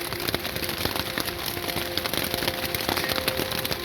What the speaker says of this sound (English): It's not gonna stop raining.